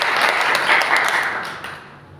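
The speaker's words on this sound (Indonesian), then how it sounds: "Berikan tepuk tangan dulu buat Tuhan kita Yesus Kristus." Church congregation applauding during a sermon, a dense burst of many hands clapping that holds steady, then thins and fades out toward the end.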